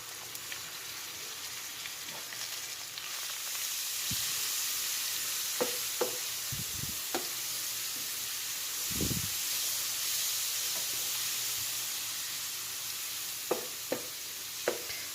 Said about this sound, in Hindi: अब लहसुन अदरक को भी इसमें सिर्फ 1 से 2 मिनट तक ही फ्राई होने देना है बस।